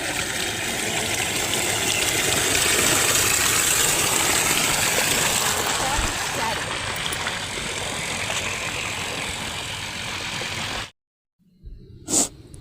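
Water gushing steadily from a split pipe in a chilli field, a loud continuous rushing hiss that holds for about eleven seconds before cutting off abruptly, followed by a brief faint sound.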